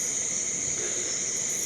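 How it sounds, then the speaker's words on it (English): Crickets and frogs chirp in a steady, shrill drone at night, continuous and fairly loud, with faint background noise beneath. "there's a lot of noise out there. Frogs and crickets and stuff."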